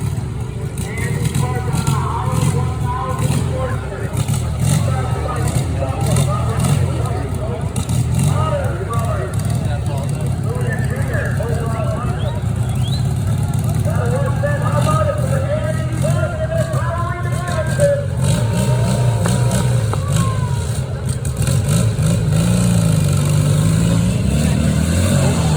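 A heavy Harley-Davidson motorcycle at a hillclimb on a ski hill runs with a steady engine drone, revving through the background while people talk nearby and crowd noise fills the scene.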